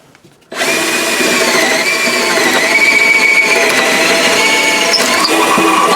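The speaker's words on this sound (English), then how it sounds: "Now I got 2 more holes to drill" A power drill bores holes through an N scale modular model railway layout, starting abruptly after a quiet moment and whining loudly and steadily at close range without pause.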